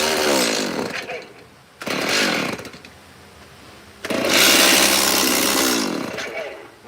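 A chainsaw carving custom wooden steps with the nose of the bar, loud and close, the engine roaring in three long bursts with brief drops to a lower idle between them.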